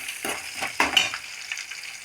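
Mustard seeds frying in oil alongside peanuts, chana dal and cumin for upma, close sizzling with scattered crackles and a few stirring taps, no speech.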